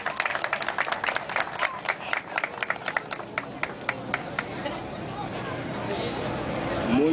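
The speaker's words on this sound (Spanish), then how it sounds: "Vamos a recibirle con un fuerte aplauso" A crowd at a community event in San Luis claps enthusiastically, sharp overlapping claps fading into general murmur and chatter as the applause dies down.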